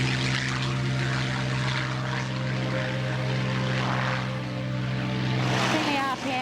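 A Spitfire's piston engine roars steadily at takeoff power, a loud close droning rumble with propeller throb, holding level throughout while a voice talks over it.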